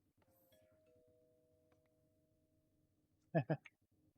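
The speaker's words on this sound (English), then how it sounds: "It has a doorbell sound." A doorbell-style chime from a modded Minecraft block in the Techopolis 3 pack, triggered by hitting it with lapis lazuli: two quick bright tones and a short third ring, following a faint quiet stretch.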